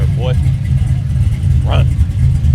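A car engine revs at a morning car meet in Atlanta, a steady low rumble filling the clip while voices shout over it nearby.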